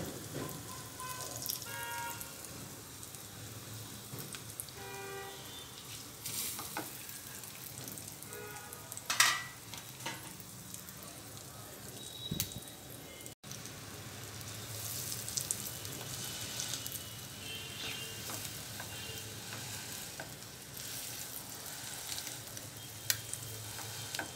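Halved boiled eggs sizzle and fry in a masala in a pan, a steady close crackle with occasional stirring scrapes and a brief clatter midway, no voices.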